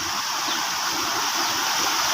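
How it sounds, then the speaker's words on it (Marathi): Heavy monsoon floodwater in Konkan rushes across a road and pours over its edge, a steady, loud, broadband roar of flowing and splashing water close by, continuous with no speech. "याच पाणी आपल्या इकडे जातं, आणि पाण्याचा आवाज बघा किती आहे"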